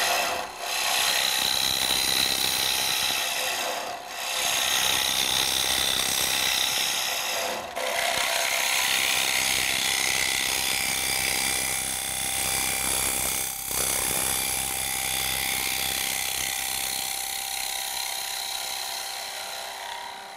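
A Robert Sorby TurnMaster scraper cuts wood on a spinning lathe in traditional scraping mode, giving a loud, continuous, rough rasping that carries on steadily throughout, with a few brief dips.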